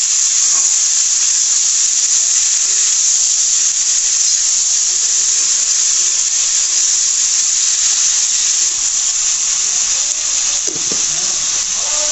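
Loud, continuous sizzling of chopped green tomatoes frying in a hot pan, with a brief scrape of stirring near the end.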